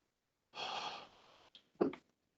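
A person yawns once, a long breathy exhale that tapers off and ends in a short voiced gasp, close and fairly quiet.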